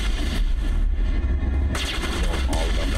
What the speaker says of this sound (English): getting some good bass off of these gunshots with this new headset